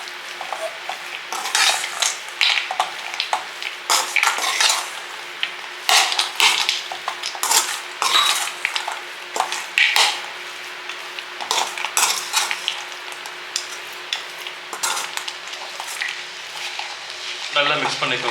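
Bread halwa is stirred with ghee in a pan, a spoon scraping and clinking against the metal in quick, uneven strokes over a soft, continuous sizzle, close and fairly loud throughout.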